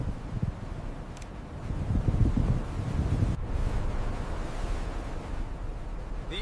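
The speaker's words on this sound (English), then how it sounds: "The air out here is filled with freezing wind and blowing sand." Freezing wind blows across open ground carrying sand, a steady rough rush buffeting the microphone, swelling in the middle and holding at a moderate level throughout.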